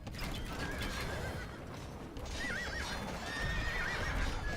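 Horse archers' horses in a strategy video game make faint repeated neighs and whinnies over dense clip-clop hoof clatter and a soft battle bustle.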